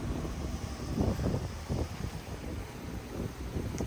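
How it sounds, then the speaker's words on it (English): Steady, low rumbling wind buffeting a microphone outdoors, continuous and fairly loud with no voices. "It's quite windy out here, so it's kind of blowing it around"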